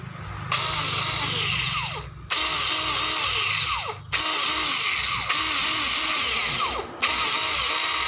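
A cordless electric saw motor whirs loudly and steadily in several bursts during a test run, stopping briefly between runs with a high mechanical whine.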